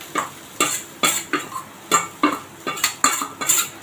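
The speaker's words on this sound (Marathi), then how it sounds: "हलका परतून घेणार आहोत आपण हे सारण याच्यामध्ये" Fresh grated coconut filling for fasting-style kachori is sautéed in a pan, a spoon scraping and stirring in steady repeated strokes about every half second, close and clear with no talking.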